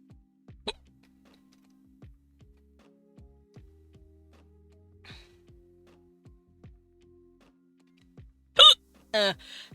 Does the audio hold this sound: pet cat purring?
no